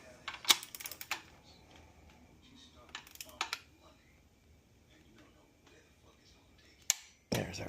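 A torque wrench clicks while main bearings on a Massey Ferguson 35 gas engine are tightened: sharp, quiet snaps in small clusters with pauses between them, set against a hushed workshop.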